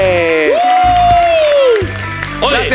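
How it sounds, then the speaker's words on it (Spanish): On a live entertainment show, an audience applauds and cheers for the guests. A long, loud sustained vocal whoop rides over the crowd, then further voices and shouts follow. "Un gran aplauso para nuestros invitados, Lico Ponce."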